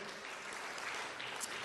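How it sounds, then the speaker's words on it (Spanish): Church congregation applauding during a sermon, a dense, even wash of clapping heard from within the room, moderately quiet and steady throughout. "¿Le daría otro aplauso al Señor?"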